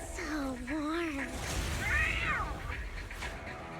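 A cartoonish cat meows in the Zenless Zone Zero video game, a few rising and falling mews sounding over game music and background effects.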